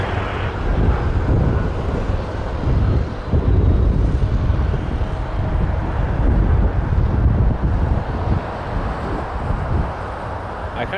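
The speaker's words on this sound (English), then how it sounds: "All right, coming in from Timmins. Jazz 430 on a Q400." A Jazz Q400 turboprop arriving from Timmins to land at Toronto Pearson gives a steady, broad engine roar mixed with wind buffeting, loud and continuous at a distance.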